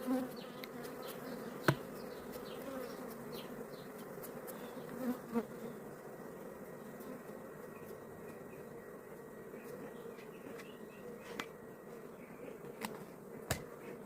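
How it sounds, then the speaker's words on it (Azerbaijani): A honey bee colony hums in a steady, dense buzz, with a few louder individual bees passing close now and then over the low, constant drone. "Arı bir qədər aqressivdir"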